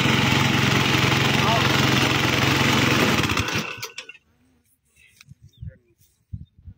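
A rice reaper machine cutting paddy in a muddy field runs as a loud, steady engine drone for about three and a half seconds, then cuts off abruptly, leaving quiet with a few scattered faint thumps and brief talk.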